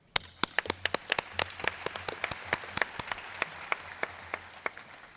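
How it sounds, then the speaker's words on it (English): Audience applause at an international family planning conference plenary session, a dense burst of many hands clapping steadily for about five seconds with sharp individual claps standing out throughout. "Let's give her a clap."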